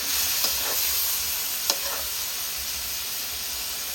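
Pork and snow peas stir-frying in a pan, with a steady loud sizzle and hiss and a couple of brief scraping stirs, no talking.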